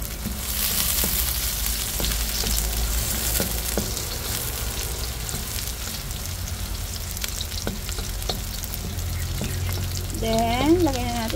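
Roughly chopped onions frying in a pan over a strong flame, a steady close sizzle with occasional stirring clicks and a brief voice near the end.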